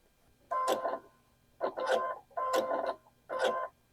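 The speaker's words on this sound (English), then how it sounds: "So let's go sew that down." A sewing machine stitching a seam on a nine patch quilt block, running in four short bursts separated by brief pauses, close and fairly loud, with no talking.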